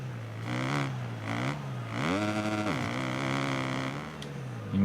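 A motocross bike engine in the MXGP Pro video game, racing the MX2 class in Russia, revs hard in repeated throttle blips. The pitch climbs and drops several times over a steady, close engine drone, with no talking.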